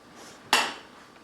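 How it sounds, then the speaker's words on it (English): A single sharp metallic clatter of a pot or pan being handled close by, ringing briefly before fading to quiet. "Now I take a pan, a pot"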